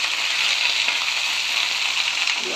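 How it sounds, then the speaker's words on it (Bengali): Sour leaves and green chilies fry in mustard oil, giving a loud, steady sizzle that carries on without a break and with no talking. "আমি এটা একটু ভেজে নিব।"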